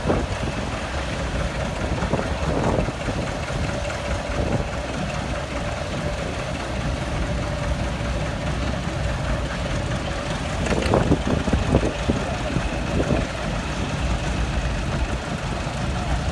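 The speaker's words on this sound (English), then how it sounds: "Here we have a 1957 John Deere E20 2-cylinder diesel." A 1957 John Deere E20 two-cylinder diesel tractor runs steadily at an outdoor two-cylinder tractor show, a continuous engine rumble mixed with wind noise and a few faint knocks.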